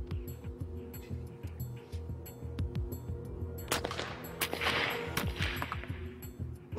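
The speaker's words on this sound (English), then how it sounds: "First up is the ball from the smoothbore musket." A smoothbore musket fires a round ball into ballistic gel, the shot arriving as a sharp crack partway through, set against a steady engine-like drone and clutter of other mechanical noise.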